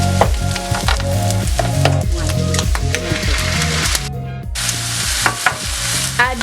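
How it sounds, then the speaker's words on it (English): Shallots sizzle and fry in a pan for dan dan noodles, a loud close crackle with repeated scraping and stirring strokes running throughout, alone with no voices. "Now we can cook the shallots for another 5 minutes or so"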